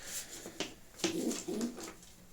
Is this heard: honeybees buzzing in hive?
no